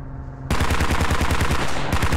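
Rapid automatic gunfire erupts after a brief quieter lead-in and keeps hammering in dense, evenly spaced bursts at close range, aimed at a BTR armored vehicle during a Squad video game battle.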